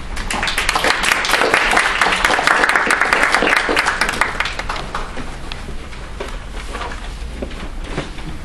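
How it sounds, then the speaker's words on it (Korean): A lecture audience claps to welcome a presenter at a Korean talk on identity and authoritarianism; dense, sustained applause fills the room and tapers slightly toward the end. "나오실 때 박수로 맞아주시기 바랍니다."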